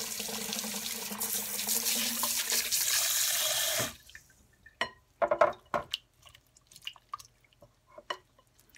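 Tap water runs steadily into a sink while fresh farm butter is rinsed, a loud continuous rush for about four seconds that cuts off, followed by scattered drips, splashes and light handling noises.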